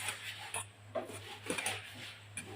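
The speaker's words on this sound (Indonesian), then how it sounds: "Setelah itu kita aduk-aduk dengan bumbu dan saus istimewanya." Boiled noodles are stirred with seasoning and sauce in a pan. Faint, close scrapes and light metallic clinks of a utensil come in an irregular rhythm, with no talk.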